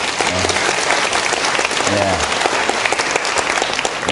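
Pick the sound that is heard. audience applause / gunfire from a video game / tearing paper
audience applause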